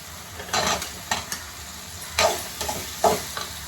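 Tomatoes sauté with potatoes and drumsticks in a pan, sending up a steady sizzle that is broken by several louder bursts as a spoon stirs and scrapes the pan, with no talking.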